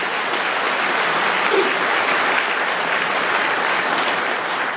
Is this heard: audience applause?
yes